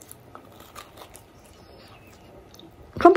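Someone chews crispy pizza crust at a picnic: soft, scattered crunches, then one loud, close crunch right at the end, with no talking.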